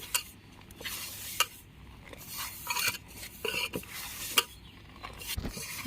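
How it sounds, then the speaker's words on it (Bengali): Oil is worked into flour for momo dough in a bowl, giving soft scraping, rubbing and light clicking sounds in irregular bursts, close up and without any talking. "ভালো করে ময়দার সাথে তেলটা মিশিয়ে নিয়েছি।"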